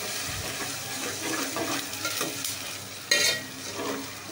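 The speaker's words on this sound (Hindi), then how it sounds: "इसमें अब हम ऐड करेंगे कीमा, इसमें हमने ऐड कर दिया है और इसको अच्छे से भून लेना है" Minced meat frying in a pan with browned onions, stirred with steady scraping strokes over a constant sizzle, close and moderately loud, with one sharper clatter near the end.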